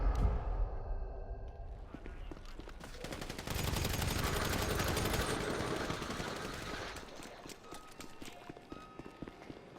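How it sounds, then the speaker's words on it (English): A minigun fires in a video game, a rapid stream of gunfire bursts that rises into a dense, sustained rattle in the middle before tapering into scattered shots, with a voice faintly underneath. "Yo, stop using a minigun. That's such a pushy gun."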